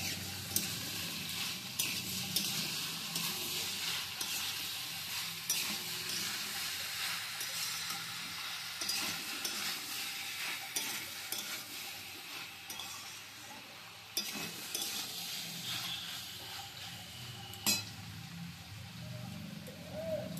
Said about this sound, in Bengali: এক চামচ চিনি, এবার ভালো করে নেড়ে নিচ্ছি।